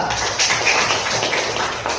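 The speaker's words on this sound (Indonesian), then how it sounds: "Tepuk tangan untuk Nadia." Elementary classroom children clap for a classmate, a steady, fairly loud patter of small hands that carries on evenly throughout.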